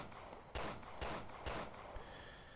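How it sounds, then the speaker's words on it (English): Pistol fire in the survival horror game Resident Evil Revelations 2: three sharp shots spaced about half a second apart, then a fainter fourth pop, over a quiet background hiss. "Does this mean I can pop off a few shots before he notices?"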